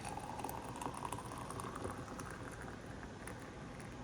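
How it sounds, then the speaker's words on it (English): Hot water pouring and bubbling into an AeroPress coffee brewer fitted with a Prismo pressure filter, a soft continuous gurgling trickle heard close up and fairly quiet. "We're going to pour our water in."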